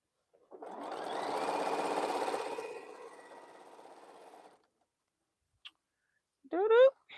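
A sewing machine runs a steady stitching burst across a quilt for about four seconds, then stops; after a pause comes a brief tick and a short rising squeak-like sound.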